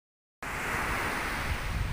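Sea surf breaking and washing along a shore on a summer day, a steady broadband rush that starts abruptly and runs loud and close with no voices.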